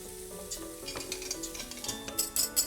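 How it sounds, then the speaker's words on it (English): Butter, mature cheddar and cream cheese melting over low heat in a pan, a soft steady sizzle with light stirring and a few clinks of utensil against metal, quiet and close. "Then melt 75 grams of butter with the same amount of mature cheddar cheese."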